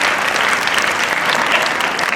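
Steady, dense applause from the audience at a play school's annual day function, continuous and fairly loud across the whole stretch with no talk over it.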